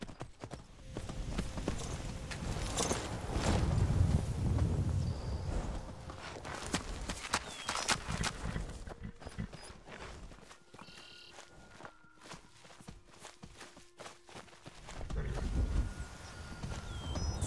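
Horse hooves clip-clopping on a road in Skyrim, a series of soft, uneven hoof falls, fairly close but moderate in volume, with quieter stretches between bursts and occasional faint ambient sounds.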